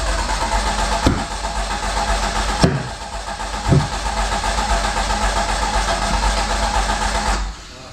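A 1982 Fiat X1/9 engine cranks steadily for several seconds, a loud continuous churning with a few sharp catches as it tries to fire, then cuts off near the end.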